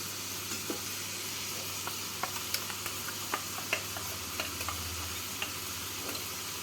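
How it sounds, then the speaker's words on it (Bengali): Prawns for a vindaloo sizzle steadily in a pan while a spoon stirs them, sending irregular light scraping clicks over the constant frying hiss, close up and with no voices. "মাছগুলোকে এক মিনিট মতো নাড়াচাড়া করে নিলাম"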